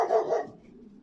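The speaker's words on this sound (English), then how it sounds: "and a barking dog." A dog in a graveyard gives a single short, fairly close bark that quickly fades into quiet.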